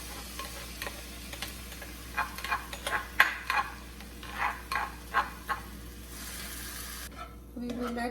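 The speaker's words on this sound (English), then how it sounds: "We will let the onion cook" One medium chopped onion frying in a pan for rajma chawal, a soft steady sizzle under a series of scraping and clinking strokes as the onion is stirred, then a brief quieter stretch at the end.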